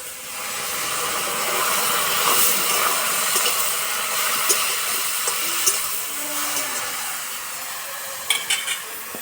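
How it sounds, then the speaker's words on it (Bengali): Water splashes and sizzles into a hot pan of ridge gourd, a steady steamy hiss with small stirring clinks and brief louder bubbling bursts near the end. "জল দেবো জল বেশি দেবো না অল্প দেবো যেহেতু ঝিঙে থেকে জল বেরোবে"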